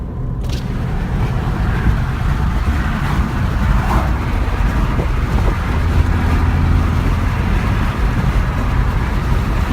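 A car's aftermarket exhaust drones steadily while driving, low rumble mixed with road and wind noise, continuous throughout, audible but not obnoxious.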